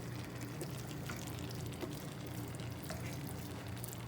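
Smoky party jollof rice being turned side to side in a pot, giving a steady low sizzle with faint scraping and stirring noises throughout, close and moderately quiet, with no talking.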